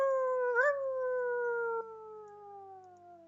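Wolves howl as a tabletop game sound effect, several long wavering tones rising briefly then sliding slowly downward in unison, fairly clear and undisturbed by talk.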